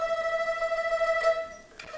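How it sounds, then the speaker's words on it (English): A bowed erhu sustains one note in fast tremolo, the rapid back-and-forth bowing giving a shimmering pulsed tone for under two seconds, ending in a light scrape. "Now tremolo sounds like this."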